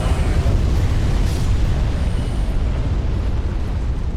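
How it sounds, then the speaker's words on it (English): A roaring, sustained blast of fire breathed by an enemy in Dark Souls, loud and dense, filling the whole stretch without a break and with no speech. "he can also blow fire down here. Like that."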